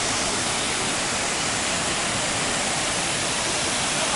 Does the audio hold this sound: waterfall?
yes